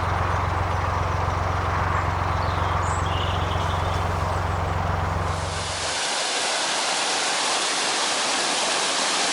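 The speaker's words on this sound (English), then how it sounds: "The lock I'm coming up to has also got water pouring over the top gates." Steady rushing water pours over the top gates of a canal lock and splashes continuously, a broad hiss that shifts brighter partway through as a narrowboat's low engine hum drops away.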